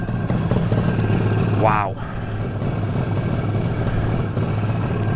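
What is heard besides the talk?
1973 Yamaha RD350 motorcycle engine idling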